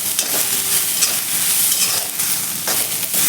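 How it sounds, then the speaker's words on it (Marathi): Cluster beans (guar) being sautéed and stirred in a pan: a steady, close sizzle and crackle of hot oil runs throughout, with soft scraping from stirring and no voices. "आपण ही गवार एक दोन मिनिटाशी परतून घेऊया त्याचा कलर चेंज होईपर्यंत आपण परतून घ्यायचे आहे"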